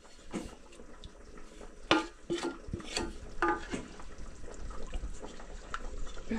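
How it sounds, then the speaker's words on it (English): Pilau is stirred in a cooking pot with a spoon, giving irregular scraping clinks and wet, soft sloshes that repeat every second or so at close range against a faint background. "Let me stir. Let me mix."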